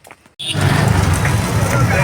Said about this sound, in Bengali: টোটোই উঠবো।